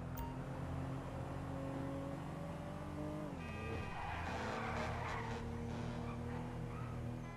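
Car in the video game GTA 5 skidding and fishtailing, with a steady engine drone and a brief tire squeal midway, heard alone at a low level.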